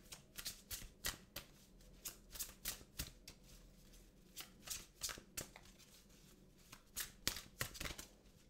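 Tarot-style reading cards being shuffled and drawn by hand, a quick rhythmic run of soft, crisp riffling flicks repeated steadily, close and quiet.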